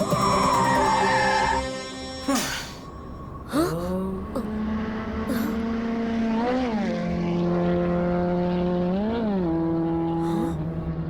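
Cartoon scooter engine in an animated Hindi children's story: after a short burst of other sound, a steady motor whine starts and holds for several seconds with rising and falling revving swoops, fairly loud and alone.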